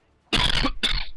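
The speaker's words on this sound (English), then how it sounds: "Sorry for coughing." Two harsh coughs close to the microphone, a longer burst followed by a shorter one in quick succession.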